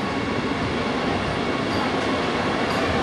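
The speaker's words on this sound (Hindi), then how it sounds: "इसको भी आप देख सकते हैं, वंदे भारत एक्सप्रेस" A Vande Bharat Express, train 20607, on a main line at a station in India, gives a loud, steady close rumble of rolling stock, with a faint wheel squeal near the end.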